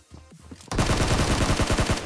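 Gunfire in the mobile battle-royale game PUBG Mobile on the Erangel map: after a few quieter in-game sounds, a loud, dense burst of rapid automatic shots erupts suddenly and keeps going without a pause.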